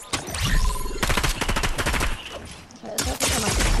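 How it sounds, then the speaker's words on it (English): Drum gun firing in Fortnite, rapid continuous automatic bursts, loud and close, with brief breaks between strings of shots. "Mine is a drum gun"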